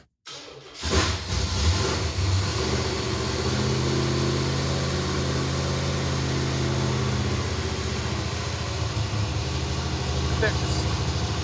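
A newly fuel-injected Impala's engine turns over and catches, then runs loudly with a steady rumble and some rising revs, close by, with voices faintly present.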